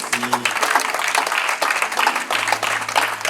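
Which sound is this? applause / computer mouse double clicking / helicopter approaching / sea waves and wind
applause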